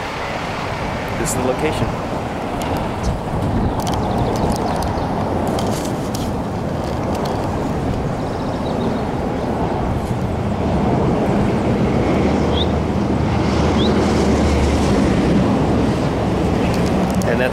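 Freeway traffic rushes past the Gaviota rest stop in a continuous loud roar right at the roadside, with someone talking over it.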